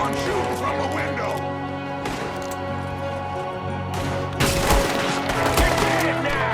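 Gunfire from a Red Dead Redemption 2 shootout plays over a steady music bed, with sporadic shots that grow denser and louder near the end while voices call out in the background.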